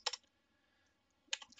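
Two short bursts of keystrokes on a computer keyboard while typing a terminal command, quick clustered clicks close by, separated by about a second of near silence.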